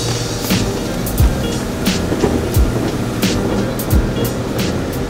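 Drive-through automatic car wash spraying water over a car with a dog inside, a steady broadband hiss and rush of water jets with periodic louder sweeps as the sprayers pass, continuous and close.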